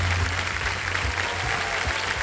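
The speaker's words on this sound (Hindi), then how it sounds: "बहुत जोरदार तालियों के साथ मैं चाहूँ कि इनका स्वागत किया जाए।" Loud studio audience applause welcoming new contestants on the quiz show Kaun Banega Crorepati, a thick, continuous roar of clapping over a low musical hum.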